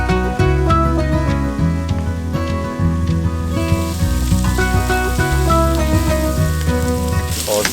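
Beef sizzles and fries steadily in a pot while being stirred, a dense crackling hiss with scraping clatter running throughout, with no talking.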